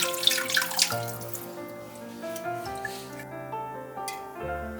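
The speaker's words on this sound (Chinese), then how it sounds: "清洗时需要将表面杂质搓洗干净。" Pork ribs are rubbed clean under a running kitchen tap, with water splashing mostly in the first second and then fading beneath steady background music.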